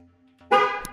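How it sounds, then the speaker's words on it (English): A truck horn honks as the vehicle is locked: one loud, close blast that rises out of quiet, followed by a couple of faint clicks. "I'll hit lock again, it's gonna honk the horn"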